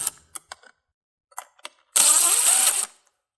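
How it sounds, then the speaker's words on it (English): A 1/4-inch screwdriver removing screws from a Frigidaire refrigerator fan motor: a few sparse clicks and taps, then a single loud whirring burst of about a second, close by. "1/4-inch screw driver."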